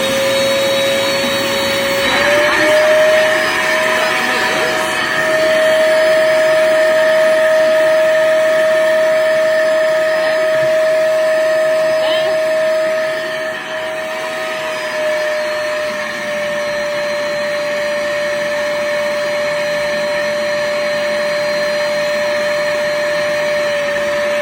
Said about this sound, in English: And then we're gonna vacuum it so it's sealed.